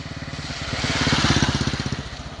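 A cartoon motorcycle engine puttering steadily in a fast, regular chug that swells slightly louder mid-clip and stays close, with no voices over it.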